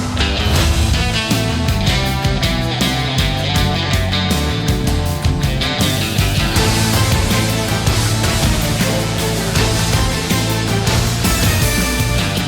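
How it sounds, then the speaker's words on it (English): Brash, guitar-heavy theme music from the video game Final Fantasy VII Ever Crisis plays loud and dense throughout, with driving drums, bass and layered lead guitar lines and no voices. "it's a big brouhaha of a track full of bravado, big egos, and bigger guitar licks"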